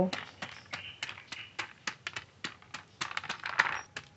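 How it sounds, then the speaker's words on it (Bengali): Roasted, shelled peanuts are cracked in a home kitchen, making a rapid series of light, dry taps and crunches at a steady, close rhythm. "যে বাদাম ভেজে রেখেছিলাম খোসা তুলে নিয়েছি, এবার একটু ফাটিয়ে নেব।"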